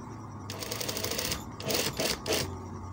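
A sewing machine stitches a kameez, running in a steady rapid clatter, then pausing briefly before several short bursts of stitching, close and clear.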